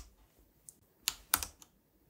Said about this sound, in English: I'm just going to have to play around with the keyboard and actually see